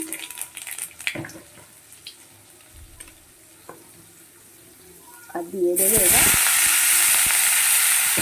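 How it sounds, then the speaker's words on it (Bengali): Nigella seeds hit hot oil for a red spinach dish, and a loud, bright sizzle suddenly erupts and holds steady after a stretch of quieter kitchen clatter and light knocks. "এদিকে তেলটা গরম হয়ে গেছে তো কালো জিরে দিয়ে দিচ্ছি"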